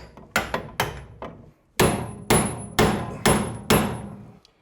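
Seven loud metallic hammer strikes on a tie rod end separator tool on a Toyota Celica steering linkage, close by, in a steady rhythm with short ringing decays and one brief pause after the first few.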